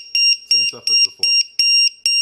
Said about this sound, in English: Oh, started to beep, and then bam.